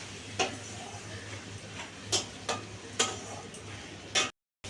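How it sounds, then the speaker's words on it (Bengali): Onion paste frying in a pan while being stirred for a sweet chicken dish, with a low steady sizzle broken by several sharp scraping strokes of the spoon, close and fairly quiet, ending abruptly. "আমার পেঁয়াজটা ভাজা হয়েছে অর্ধেকটা"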